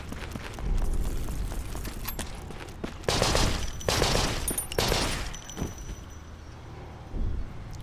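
In the video game Conscript, a mounted gun fires repeated bursts of rapid shots that crack loud and close, with short pauses between bursts and a quieter stretch near the end.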